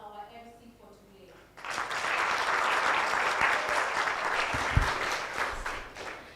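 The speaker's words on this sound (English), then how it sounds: "Could we kindly give a big round of applause for our MC for today?" At a corporate event about going beyond CSR, an audience breaks into a big round of applause for the MC, steady clapping sustained for several seconds right after a speaker's voice ends.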